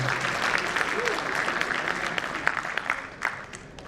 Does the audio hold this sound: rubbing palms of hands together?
no